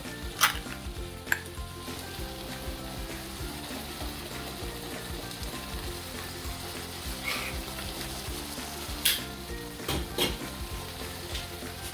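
Canned Goya chickpeas simmer in a pot for a curry, making a low bubbling and sizzling bed of sound with a few sharp metallic clinks of pot and utensil. Faint background music plays underneath and nobody speaks.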